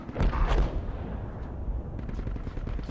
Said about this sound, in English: Tow missile away.